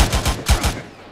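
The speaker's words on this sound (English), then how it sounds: "Well, we're being shot from the left." Four quick, sharp gunshot cracks from ArmA 3 gameplay, close and loud, evenly spaced in a brief burst, with no talking.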